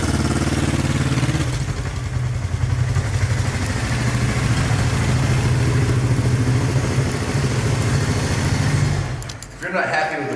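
A 1972 Honda CL350 scrambler motorcycle engine runs steadily up close, a loud, even idle with a light mechanical clatter that holds for about nine seconds before dropping away.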